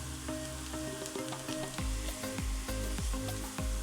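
Chopped onions frying in a pan over full heat while stirred constantly, a close continuous sizzle with regular scraping strokes of the spoon across the pan.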